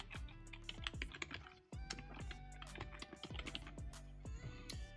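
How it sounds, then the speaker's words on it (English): Rapid clicking keystrokes on a computer keyboard while an email address is typed in, an uneven run of close, crisp taps with a brief pause partway through, and no voice. "In this case here, it's my personal email account here. I'm going to type that in."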